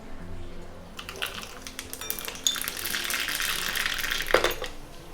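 Mustard seeds spluttering in hot sesame oil for a peppery tamarind rice tempering: a dense run of sharp crackles and pops that starts after a quiet second and keeps crackling close up, with a brighter snap near the end.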